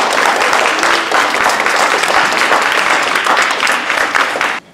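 Loud, dense, continuous applause from the audience at the Mission-X closing event, a steady wash of many hands clapping that holds evenly and then cuts off abruptly.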